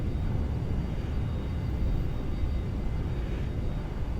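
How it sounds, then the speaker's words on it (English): Boeing 737-800 thrust reversers roaring after landing in the X-Plane 11 flight simulator, a loud, steady broadband rumble of engine noise sustained without a break. "Put the reversers and get her stopped."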